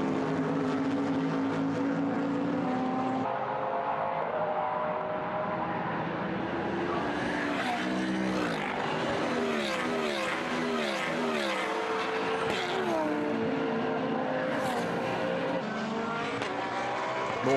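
A Mercedes GT race car threads through slower traffic at the Nürburgring during an endurance race, engines roaring continuously with rising and falling revs as cars pass up close, a commentator talking over the noise.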